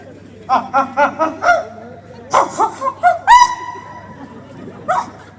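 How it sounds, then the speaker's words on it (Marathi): A village street dog barks in a quick run of sharp barks, then a second burst of yips and barks, close and loud with a whine in between, while people chatter and laugh around it in a comedy setting. "हे गावठी कुत्र"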